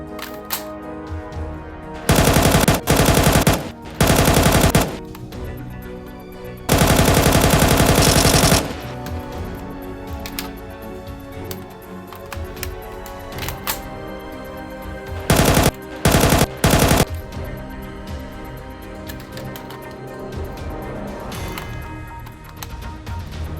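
A Lego-built Galil ACE rifle fires in several loud, harsh bursts of rapid automatic gunfire. The bursts are broken up by gaps and clicky mechanical handling noise.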